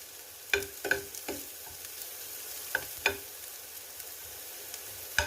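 Garlic frying in a pan for beef samosa filling, a soft steady sizzle broken by several sharp clacks of a utensil stirring against the pan, close and alone.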